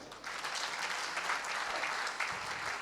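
An audience at a Hindi kavi sammelan poetry recital at the Khadkhadi Mahotsav in Hapur breaks into continuous clapping, a dense, fairly loud wash of many hands with a faint voice briefly underneath.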